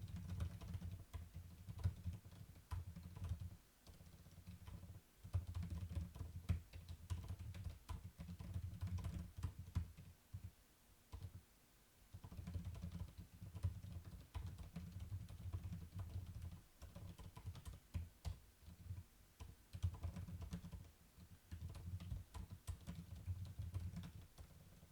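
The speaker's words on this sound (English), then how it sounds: "I gotta retype the whole thing." Fast, steady clicking of computer keys as someone retypes text on a keyboard, close and fairly quiet, in bursts separated by brief pauses, with no talking.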